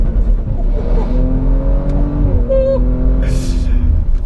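A 2018 Audi RS4 Avant accelerates on a test drive, its exhaust giving a loud, steady engine drone that climbs in pitch, with brief shifts and a rise in revs toward the end.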